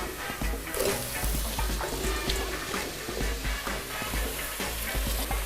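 Vegetables sweat and sizzle steadily in a pot for a cauliflower soup, with a continuous frying hiss and occasional stirring scrapes, close and unbroken, with no voices.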